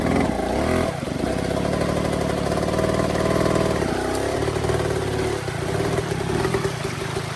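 An off-road motorcycle engine runs close and loud as the clutch is released on slippery rocks, a continuous drone whose pitch rises and dips slightly.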